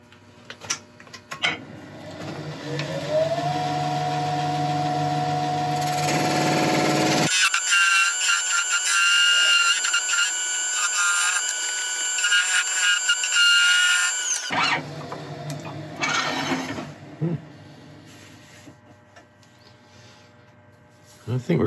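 A wood lathe turning the neck of an ash vase whirs steadily with a high-pitched tool-on-wood whine and scraping, the tone shifting as the cut changes, running nearly continuously.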